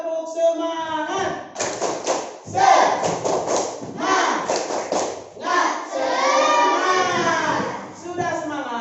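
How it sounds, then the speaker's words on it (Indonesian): A class of children performing the 'tepuk semangat' clapping chant on a school morning, with rhythmic bursts of claps and thumps mixed with loud group chanting and voices in a classroom. "marilah kita tepuk semangat dulu biar kita semangat dalam mengikuti pembelajaran kita pada pagi hari ini"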